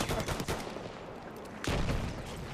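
Incoming gunfire in the first-person shooter Battlefield 1 on the Prise de Tahure map: a steady crackle of rapid shots with a heavier burst near the end, loud and close, with no talking.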